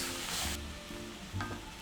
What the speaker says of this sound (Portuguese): Enquanto a carne vai dourando